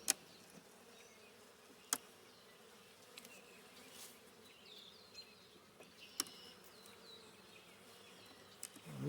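Honeybees hum in a low, continuous, fairly quiet drone during a spring hive inspection, with occasional louder buzzes passing close and a few sharp clicks and knocks from handling the hive.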